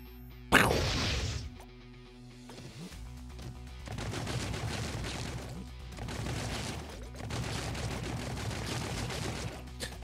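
Grenades detonating in the sci-fi shooter Hive Jump: one sharp, loud blast opens, followed by dense rolling bursts of explosive and gunfire-like noise that continue in heavy waves with no talking.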